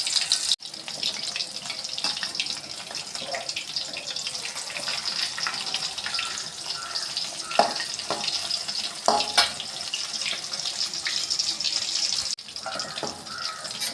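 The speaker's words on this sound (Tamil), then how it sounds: "கலந்து வச்ச வடை மாவை எடுத்து எண்ணெயில் தட்டி போட்டுக்கலாம்" Prawn vadai batter frying in hot oil, a continuous bright, crackling sizzle at moderate loudness with a few sharper pops and spatters along the way, no talking.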